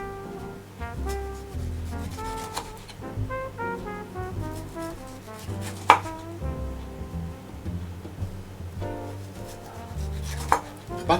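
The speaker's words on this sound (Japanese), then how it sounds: "トマトを切っておきます。" A knife chops through a firm tomato on a cutting board in a run of close, repeated thuds, with a sustained low humming tone underneath.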